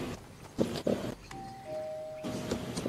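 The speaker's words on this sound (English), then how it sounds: "who rang on my doorbell?" Doorbell chime in the Fortnite video game, a two-note ding-dong tone sounding clearly after a few short knocks or thumps, with the notes ringing out briefly before faint game ambience returns.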